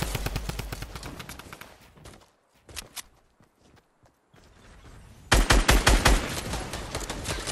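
Rapid bursts of gunfire in the Fortnite battle royale video game come loud and close in repeated volleys, drop away to a brief lull with scattered shots, then return in a dense, heavy stream of fire.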